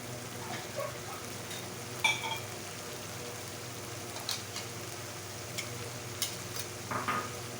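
Chinese fish meat is stir-fried in a pan with a soft, continuous sizzle, while scattered spoon scrapes and clinks against the pan come in short, irregular bursts.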